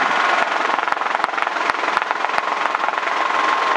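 A Schweizer S300 CBi training helicopter in flight during a descent, its engine and rotor giving a loud, steady close-up drone with rhythmic blade slaps throughout.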